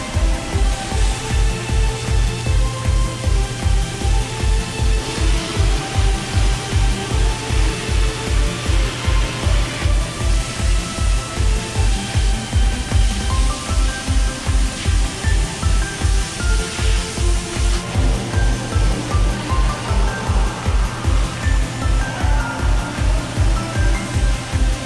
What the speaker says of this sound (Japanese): 最初にシャワーを浴びるのは隊員ではなく L キャップ。 一番最初にきれいにしてもらいます。